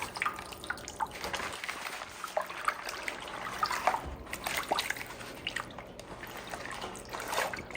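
Leaves for Fante kenkey being washed by hand in water, with soft splashing, dripping and trickling sounds, fairly quiet and irregular throughout.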